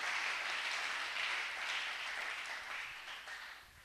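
A church congregation applauds, a dense, steady wash of clapping from many hands that holds for a few seconds and then gradually fades, with no clear voices over it.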